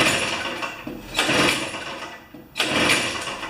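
An old two-stroke snow thrower with the choke on is pulled over twice, each pull giving a loud, raspy surge of sputtering engine noise that fades without catching.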